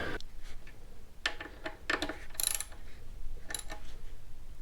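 Front brake caliper bolts on a Yamaha MT-03 or R3 motorcycle being snugged down with a T50 Torx bit, heard as quick ratcheting ticks and light metallic clicks in short bursts, close and fairly quiet, with no talking.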